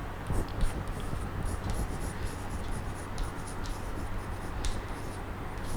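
Pen strokes scratch steadily across paper while an accounting journal entry is written out by hand, a close, continuous scratching with small rhythmic bursts and no talking.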